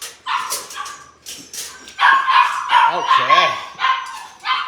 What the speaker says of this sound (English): And we've got puppies complaining.